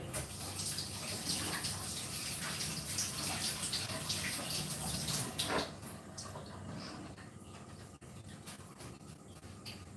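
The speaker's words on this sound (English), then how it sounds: "now let's wash the pepper" Running water pours steadily as a pepper is washed under a kitchen tap, a dense continuous splashing that eases slightly partway through, with no talking.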